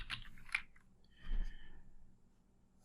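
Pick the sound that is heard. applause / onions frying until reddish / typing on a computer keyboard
typing on a computer keyboard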